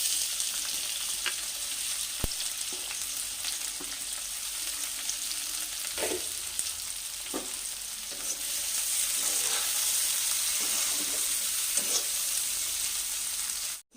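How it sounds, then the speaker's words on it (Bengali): Sliced onions frying in a little oil in a wok with kalo jeera for aloo posto, giving a continuous close, even sizzle with occasional faint stirring scrapes and no voices. "পেঁয়াজটা আমার লাল লাল করে ভাজা হয়ে গেছে"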